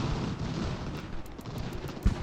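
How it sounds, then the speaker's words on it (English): Dense, rumbling battle noise in the video game Ultimate General: American Revolution, with distant gunfire and booms throughout, a sharper low thump near the end. "Gunfire."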